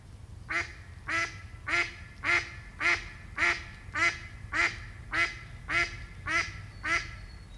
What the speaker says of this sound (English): So we've got mallards nesting down here